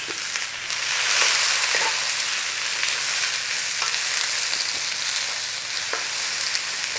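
New potatoes frying in a pan with onions and peppers added, a steady loud sizzle throughout with occasional stirring scrapes and clicks.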